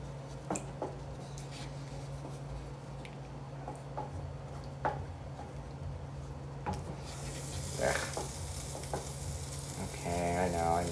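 Thick sausage gravy bubbling fast in a cast iron pan, a steady close sizzle with soft pops and occasional stirring scrapes, growing louder and busier toward the end.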